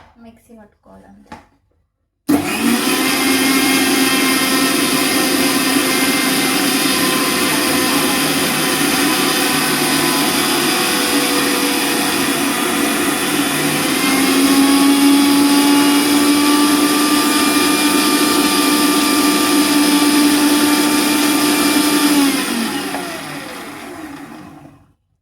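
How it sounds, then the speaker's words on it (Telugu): Mixer grinder churning cream with plain water to separate butter for homemade ghee, a loud, steady motor whir running continuously for over twenty seconds, rising slightly in pitch midway before winding down at the end. "దీంట్లో కొద్దిగా వాటర్, నార్మల్ వాటర్ వేసి మిక్సీ పట్టుకోవాలి"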